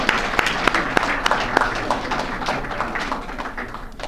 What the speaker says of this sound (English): we get another round of applause for our speakers this evening?